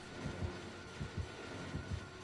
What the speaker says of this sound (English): Heartbeat! Run away!